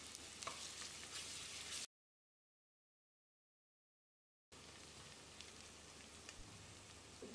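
Onion with a spoonful of ginger garlic paste sautéing in a pan for a carrot kurma gravy, a steady close sizzle and crackle with brief stirring; the sound cuts out for a few seconds, then resumes just as strongly.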